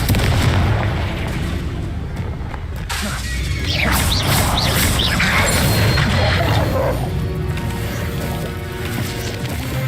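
A Confringo blasting spell bursts in Hogwarts Legacy, with booming explosive crashes and crackling debris over a dense rumbling battle bed lasting several seconds.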